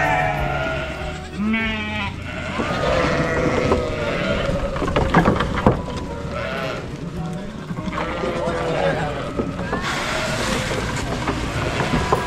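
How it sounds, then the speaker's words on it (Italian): Sheep and goats bleat at an animal sanctuary as the flock returns for the night, several wavering cries rising over a busy background while a person talks throughout. "adesso stiamo aspettando che tornino tutti i cavalli e tutte le pecore e le capre per la notte"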